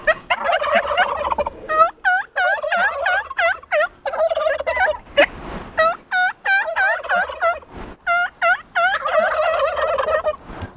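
Turkeys in a chicken coop gobble repeatedly and loudly, with rapid overlapping bursts of warbling calls close by and brief pauses between volleys.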